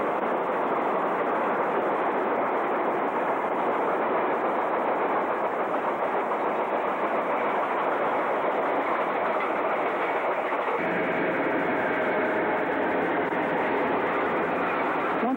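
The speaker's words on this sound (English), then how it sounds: "A southbound train 308 with engines 1802 and 1809 pass over the Frederick" Ontario Northland southbound freight train 308, led by engines 1802 and 1809, crosses the Frederick House River Bridge near Connaught, Ontario, in winter, a loud continuous rolling rumble with faint rhythmic wheel clatter and no voices.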